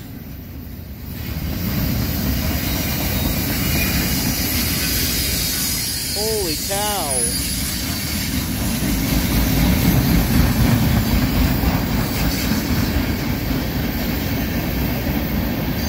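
A long freight train carrying Bradley armored fighting vehicles rolls steadily past close by with a continuous rumble and clatter of cars, a brief wavering squeal midway, and a man exclaiming once near the start.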